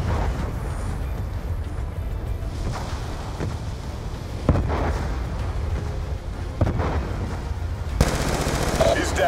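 Gunfire during an attack on a SAT antenna in Call of Duty: Black Ops 2, sustained rumbling automatic fire with several sharp bursts standing out over a continuous battle din.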